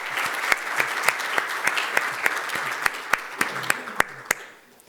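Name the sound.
conference audience applause for organizers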